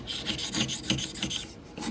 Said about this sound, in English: So the sharp chisel, keeping the chisel flat with your thumb